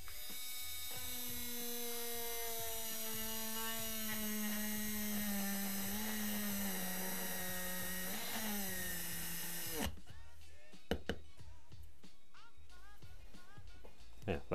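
A small high-pitched mini rotary grinder (Topshak TS-MG1) whines steadily for about ten seconds while drilling plastic, its pitch sagging slightly under load, then stops, leaving clicks and faint handling sounds.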